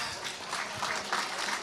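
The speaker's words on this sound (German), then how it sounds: "großen Applaus." Brief burst of audience applause welcoming a racing driver guest at a live interview event, a dense, steady wash of clapping throughout.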